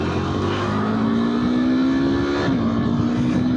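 A motor vehicle passes on the Hyderabad highway: a loud, close, steady engine drone whose pitch rises slightly and then dips as it goes by.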